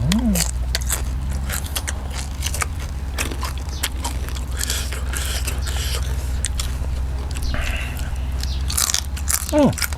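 Crunchy fried scorpions eaten with som tam, crisp bites and steady chewing heard up close, with a voice murmuring faintly underneath.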